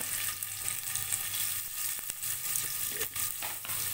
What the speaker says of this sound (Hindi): अब मैं पनीर के पीसेस फ्राई कर लूँगी